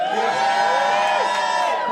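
A comedy club crowd cheers with steady, held whoops and voices that blend into a dense, ongoing roar. There is little distinct clapping.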